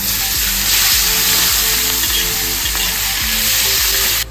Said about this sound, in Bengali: পেঁয়াজ ভালো করে ভাজা হয়ে গেছে